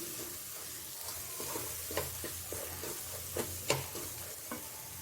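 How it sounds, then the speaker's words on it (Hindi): Grated dried coconut fries in oil for a mutton kofta gravy, giving a quiet, close, steady sizzle broken by sporadic scraping clicks from stirring. "अच्छे से भुनना है तेल में"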